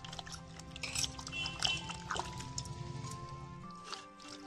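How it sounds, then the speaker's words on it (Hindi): Peeled raw bananas are dipped into water in a kitchen, giving soft close splashes, drips and squishy liquid sounds over a faint background of music. "एकर बाद एला पानी में डुबाबो ताकि ये काला मत हो"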